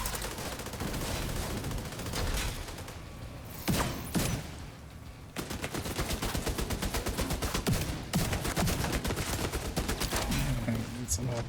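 Turret gunfire in a video game, dense rapid bursts of automatic shots that rattle almost continuously, with a brief lull midway, loud and close, while players talk over it.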